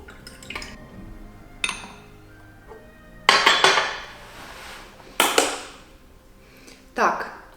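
Tea is poured through a sieve from a teapot, with sharp clinks of teaware at intervals and bursts of splashing liquid, heard close up in a quiet room.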